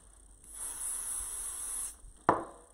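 Spray bottle misting water onto fabric in a sewing project, a sustained hissing spray of about a second and a half, followed by a short sharp burst, close and fairly quiet with no talking.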